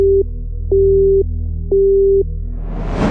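Four evenly spaced electronic beeps of a phone's call-ended or busy tone, loud and close, with a steady low hum beneath and a burst of hiss at the end.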